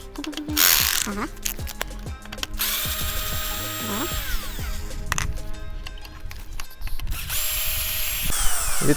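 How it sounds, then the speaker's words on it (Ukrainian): Power tool whirring and ratcheting in bursts while the two screws holding the folding mechanism to the front fork of a Xiaomi electric scooter are undone, close and fairly loud with clicking mechanical noise. "Для цього треба відкрутити два гвинти, які кріплять вузол складання до передньої вилки."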